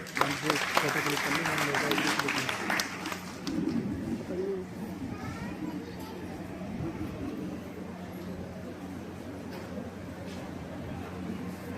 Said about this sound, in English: Let us welcome Principal Ma'am with a big round of applause